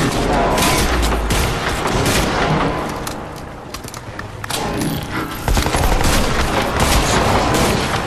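Sustained bursts of rapid gunfire from a weapon in Crysis 2, dense and loud, with booming impacts, a brief lull midway, then heavy firing resumes close up.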